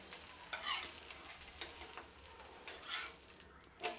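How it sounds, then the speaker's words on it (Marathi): Beetroot snack shallow-frying with drops of oil on a pan over medium heat, with a faint, steady sizzle and occasional light scraping taps as it is turned. "खालची साईड आता आपण चांगली भाजून घेऊया। असं थोडं थोडंसं एक एक टिपका तेल सोडायचं आणि पलटी करून घेऊया"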